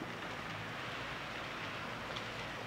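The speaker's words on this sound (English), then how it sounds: "Right now it's raining" Light rain falls steadily outdoors on a street after an ice storm, a soft continuous hiss of drops, faint and even throughout with no voices.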